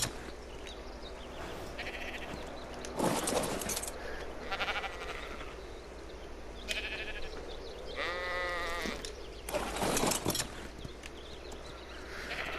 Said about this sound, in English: sheep aren't very strong, and these are particularly low-level sheep